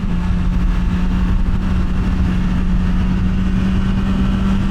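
BMW S1000R Sport naked motorcycle, 2025 model, being ridden: a loud, steady engine drone with a constant low hum and rushing wind noise, continuous and close throughout with no talk.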